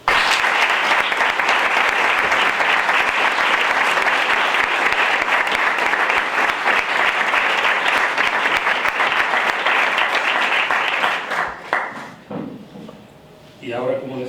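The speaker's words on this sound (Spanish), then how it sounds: "Cáceres Rodríguez y don Antonio Viera Ramos, para los que desde aquí pido un fuerte aplauso" Sustained applause from an indoor audience at a Spanish Constitution Day civic ceremony at Almonte town hall, dense clapping that fades after about eleven seconds, then a voice speaks.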